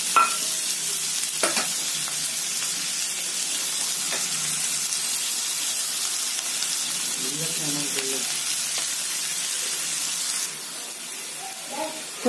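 Chopped onions fry in a pan for millet noodles, a steady loud sizzling hiss with occasional scraping stirs, easing slightly near the end, while a person talks now and then.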